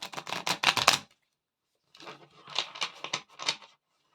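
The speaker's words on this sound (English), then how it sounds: "let's give it a little mini shuffle" Two bursts of rapid riffling, a tarot card shuffle close by, about a second long, a pause, then another longer ripple of flicks.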